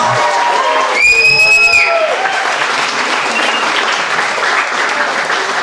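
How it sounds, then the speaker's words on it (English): Steady audience applause fills a wedding reception hall, loud and sustained throughout, with a brief cheer or whistle rising above the clapping early on. "give them a big round of applause"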